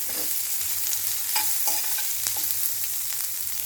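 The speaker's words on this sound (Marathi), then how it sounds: "त्याला चांगला ब्राऊन होईपर्यंत शिजवून घेऊया" Onion fries in hot oil, browning in a pan with a steady, even sizzle and occasional light stirring scrapes, close and continuous with no talk.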